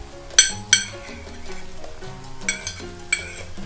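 Red bell pepper and grated carrots stir-frying in a pan, a low sizzle with a few sharp metallic clinks of the spatula against the pan, close and without talking.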